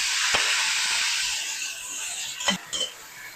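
Cauliflower dropped into a hot pan for a beef and cauliflower dish, giving a steady close sizzling hiss throughout, with a couple of brief clatters of utensils near the end.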